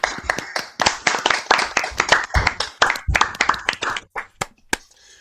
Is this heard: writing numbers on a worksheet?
no